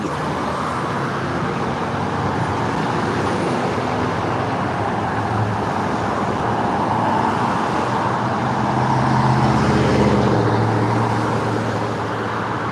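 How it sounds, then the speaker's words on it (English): An old Ford pickup truck drives past on a road, its engine rumble building gradually and peaking near the end amid steady traffic noise. "that old Ford pickup truck sounded good"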